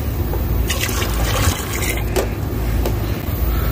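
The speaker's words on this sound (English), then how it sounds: "Pour it in our bucket." Humic acid and sea kelp liquid fertilizer, about two cups, pours into a bucket, a loud, close, continuous splashing gush lasting several seconds with no talk.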